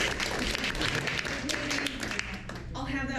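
An improv comedy audience claps together in a theater, a broad wash of applause with crowd voices mixed in, tapering off near the end as a voice begins to come through.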